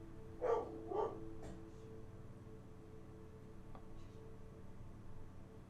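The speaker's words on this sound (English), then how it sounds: "I think my dog's barking." A dog barks indoors, a couple of muffled barks close together followed by a softer third, faint and somewhat distant over a steady room hum, then only faint background noise.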